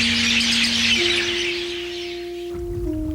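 Myna birds chatter in the courtyard of the Lahaina banyan tree on Maui, a dense, loud, continuous flock chorus that eases a little toward the end, with a steady musical drone underneath.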